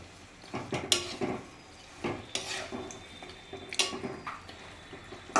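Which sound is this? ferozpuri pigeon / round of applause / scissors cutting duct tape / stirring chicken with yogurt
stirring chicken with yogurt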